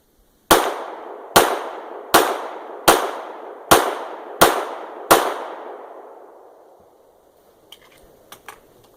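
An Oriskany Arms firearm fired for the first time during break-in, seven sharp, loud shots in a fairly even rhythm, each with a short ringing decay, followed by a few faint clicks.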